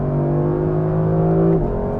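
A 2023 Lexus LC500 in Sport Plus mode revs hard under acceleration, a close, loud, steady engine drone that holds its pitch before dropping abruptly near the end.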